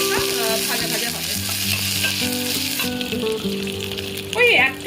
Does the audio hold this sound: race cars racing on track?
no